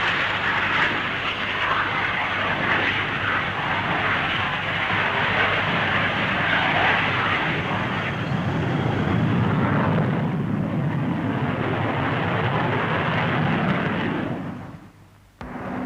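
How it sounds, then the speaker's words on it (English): An RAF Hawker Hunter jet lands with reverse thrust at a 1950s Farnborough air show, giving a loud, steady, broadband roar that holds for about fourteen seconds before briefly dropping away near the end. "A Hunter demonstrated one method, reverse thrust"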